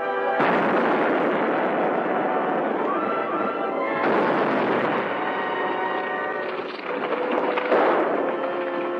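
Explosion in a 1945 pirate adventure film, a heavy booming blast with a long rumbling roar, followed by further deep bursts that keep the sound loud and dense throughout.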